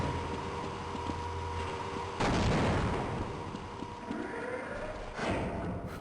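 APC firing at the player in the video game Half-Life, with a couple of sharp shots and bursts heard over a low droning game background, one near the middle and another near the end.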